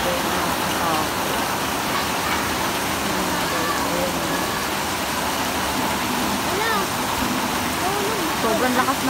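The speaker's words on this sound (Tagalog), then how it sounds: "Sobrang lakas ng ulan kasi walang tigil." Heavy, unrelenting typhoon rain pours down beside a rising river during a flood, a dense steady roar that fills the whole stretch with no let-up.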